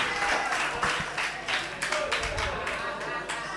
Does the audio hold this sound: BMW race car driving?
no